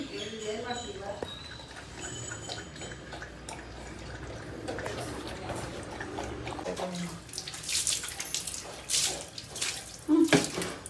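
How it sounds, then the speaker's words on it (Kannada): Water runs and splashes during a bath at home, a continuous wash of flowing water with louder pours and splashes toward the end. "ಗುಂಡಂಗೆ ಸ್ನಾನ ಇವತ್ತು."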